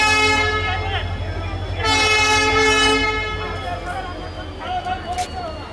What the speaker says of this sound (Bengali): আগারতলা উদয়পুর যাত্রীবাহী ট্রেনটি সূচনা হয়ে গেছে